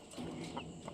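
A hen clucks in short, moderately loud bursts at close range, with a few distinct calls over a low steady background.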